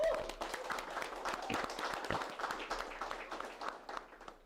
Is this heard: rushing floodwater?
no